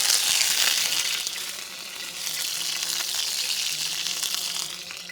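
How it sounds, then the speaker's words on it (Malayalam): Curry leaves drop into hot oil and fry with a bright, loud burst of hissing sizzle that settles into a steady, even crackle, close up, while preparing pearl spot fish masala; no talking heard. "എണ്ണ ചൂടായിട്ടുണ്ട്. അതിൽ കുറച്ച് കറിവേപ്പില മേളിൽ"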